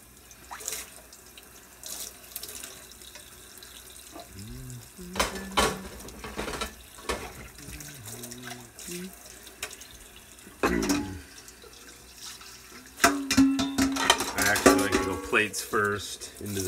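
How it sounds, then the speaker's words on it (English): Dishes, bowls and cutlery rinsed by hand under a running tap at a kitchen sink, with steady water flow and scattered clinks of crockery, louder clattering toward the end, and no talk. "then I rinse them all"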